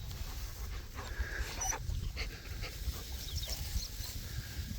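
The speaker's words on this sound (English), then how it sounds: "the dog's excited because I'm here" A nearby excited farm dog pants in quick rhythmic breaths and scrabbles about, with faint shuffles and thumps under a low outdoor background.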